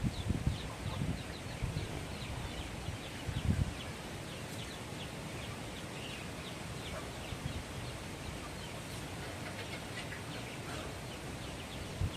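Chickens cluck softly at a distance over a constant outdoor hiss, with a few sharper clucks early on.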